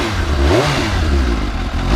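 A new motorcycle engine idles loudly and close, its low throbbing note rising in a short rev before settling back to a steady rumble, with no voices over it.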